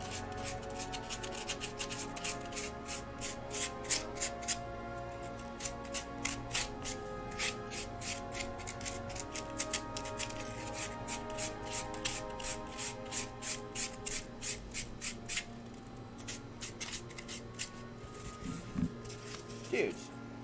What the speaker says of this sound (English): ASMR warning sounds if you don't like sanding or foam today.